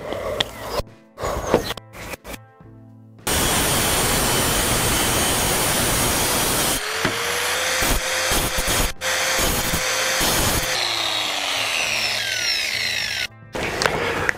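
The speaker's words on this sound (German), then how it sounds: "ich flex kurz" An angle grinder cutting old wooden beams for a bookshelf whines loudly and continuously for several seconds, with shorter bursts and brief pauses before and after; no voices.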